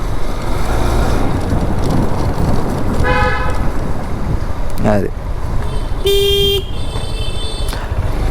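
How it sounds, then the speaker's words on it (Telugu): Car horns honk on a busy road in a few short toots and one longer blast, heard over a constant loud roar of traffic and wind while someone briefly speaks. "మంచి హార్న్ కొట్టు"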